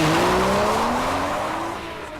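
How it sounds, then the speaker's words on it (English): A 2013 Porsche Boxster S with its 3.4-litre flat-six engine sounds loud and close while cornering, a sustained engine note sliding slowly downward with tyre noise beneath it. "there's the engine and the G-forces it generates and the intoxicating sound it makes"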